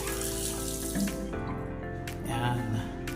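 Water runs from a kitchen sink tap in a model house, a steady splashing stream that continues throughout.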